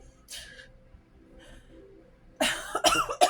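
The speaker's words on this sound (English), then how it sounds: "I cough when I channel." A person indoors gives a couple of faint throat-clearing sounds, then a burst of several harsh, close coughs in quick succession.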